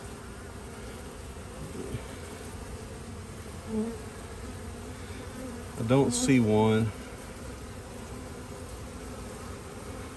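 Honey bees buzz in a continuous, even drone around an apiary hive, with a brief voice speaking in the middle.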